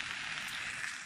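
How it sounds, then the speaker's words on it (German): Onions fry in a covered pan, giving off a soft, even sizzling hiss that stays faint and continuous throughout, with no voices. "So, Deckel wieder auf. Jetzt kann das erstmal vor sich hin brutzeln."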